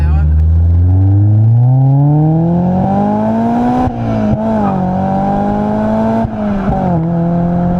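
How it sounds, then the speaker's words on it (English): A Honda Accord Euro Type R with VTEC engine revs through the range from inside the cabin, a rising, strained four-cylinder drone that climbs steadily then holds high with brief dips at gear changes, loud and close. "we will rev it all the way through and see what it feels like"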